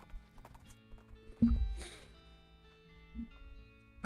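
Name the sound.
horse hooves clip-clopping in video game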